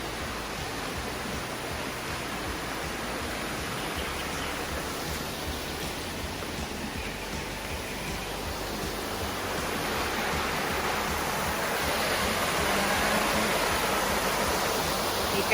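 Spring-fed water flows steadily into a resort swimming pool in Bukidnon, a continuous broadband rush that swells slightly louder toward the end, with no talking.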